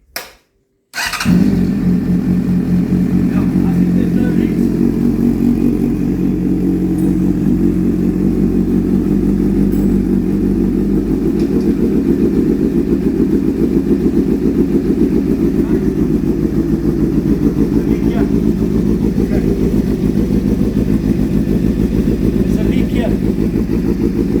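A Honda CBF600S motorcycle starts after an oil service and settles into a loud, steady idle close by, its even engine throb running continuously to the end.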